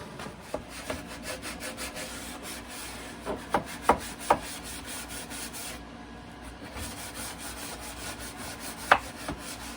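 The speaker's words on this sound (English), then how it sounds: "Gotta sand it." A wooden dog dish centre sanded by hand, heard as steady close rasping strokes with a few sharper scrapes and knocks scattered through the stretch, no voices.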